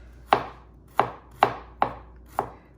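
A knife chops bulk vegetables on a cutting board for Lion's Head pork meatballs, five crisp, evenly spaced thuds with short decays, close and clear with no voices.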